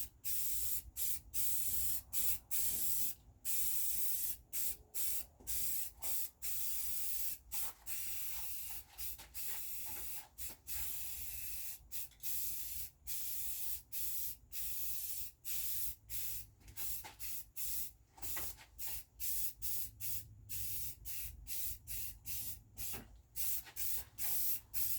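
Spray gun laying a heavier final coat of paint on parts of a TLB being rebuilt, a steady close hiss that runs almost continuously, broken by many brief stops between passes, with no talking.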